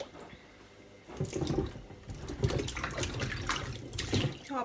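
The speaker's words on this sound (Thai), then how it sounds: "จะแช่น้ำล้างจ้ะ" Water splashes and sloshes as freshly picked Thai cucumbers from a home garden are soaked and washed. The sound is close and fairly soft, a quiet pause followed by irregular bursts of splashing and trickling.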